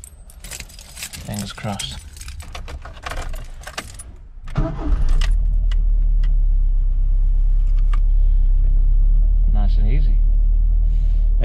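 A Ford Escort Mk3 engine cranks after a jingle of keys, catches and settles into a loud, steady idle for several seconds; a voice speaks briefly beforehand, during the keys and cranking.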